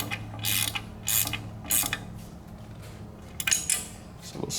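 Titanium blade bolts are snugged by hand in a star pattern, with a few sharp metallic clicks and ratcheting clatters spaced about a second apart over a low steady hum.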